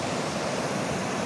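A swollen river in flood after heavy rain gives a steady, dense roar of rushing water, loud and continuous with no pauses and no voices.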